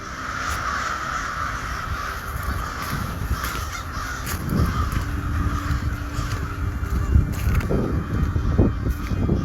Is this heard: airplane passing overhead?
no